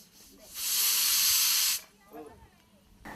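A pressure cooker vents steam in one loud, steady hiss lasting just over a second, then cuts off, leaving faint voices and household sounds nearby.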